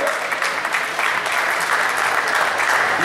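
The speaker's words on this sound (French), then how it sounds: "Mais on peut l'applaudir quand même." Steady, dense applause from an audience at a festival awards ceremony, sustained clapping throughout at close range with no speech over it.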